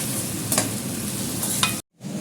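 Garlic and masala roasting in a pan, a steady close sizzle with a few brief scraping stirs, cutting out abruptly near the end before the frying resumes.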